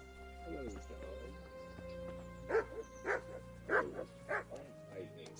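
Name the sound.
dog barking in video game Kingdom Come Deliverance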